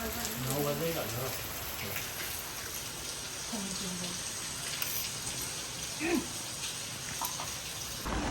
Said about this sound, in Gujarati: આજે છે ફૂલ વરસાદ